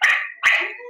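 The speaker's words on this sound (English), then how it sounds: "Excuse my dog." A 4.5-month-old puppy barks twice indoors, two short, close, fairly loud yelps in quick succession.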